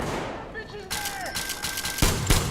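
Gunfire in the video game Metro Exodus: a quick burst of several loud, sharp shots near the end, after a stretch of game noise with a rising tonal whine.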